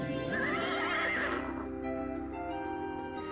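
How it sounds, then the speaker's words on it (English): A winged horse in the video game King's Quest 2 lets out a single clear neigh, a rising whinny that trails off over steady game music. "Before you now stands a magnificent winged horse."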